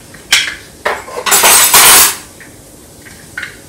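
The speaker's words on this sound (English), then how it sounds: "Got this cool little knife sharpener" A kitchen knife is pulled through a small handheld knife sharpener in a home kitchen, giving several short, bright metallic scrapes followed by a longer grinding stroke, close and fairly loud.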